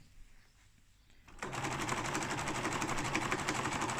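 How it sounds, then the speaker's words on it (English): After a quiet start, a sewing machine kicks in, running a rapid, even stitch along the edge of bunting tape, close and steady to the end. "So you want to sew as close to that edge as possible without falling off"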